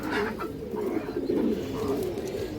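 A large pair of pigeons coos softly and continuously at close range, a low throaty murmur with no other sounds around it.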